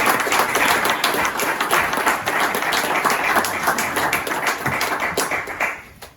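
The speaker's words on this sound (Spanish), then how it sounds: "voy a pedir un aplauso ahora para Nacho Doria" Dense applause from a crowd at a 40th-anniversary basketball special, steady and loud with many hands clapping at once, tapering off in the final second.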